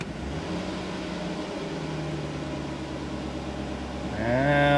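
The engine of a 2008 Chevy Suburban idles steadily with a low hum, then revs up sharply near the end, its pitch rising as it gets louder. The engine is heard on its own, with no talking.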